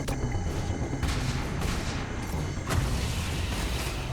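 Titan rockets fire in the sci-fi shooter Aliens: Fireteam Elite 2, a dense rapid volley of booming bursts rolling continuously at moderate loudness, with a few sharper blasts standing out.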